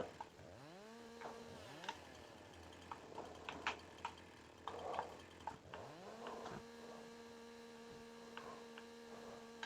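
A chainsaw in Farming Simulator 19 cutting branches off a felled tree in a Baltic Sea setting, its engine revving up and settling into a steady whine several times, with faint clicks and hum underneath.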